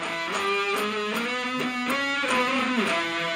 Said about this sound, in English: I've learned how to make my guitar sound like this big band sound with those octaves I do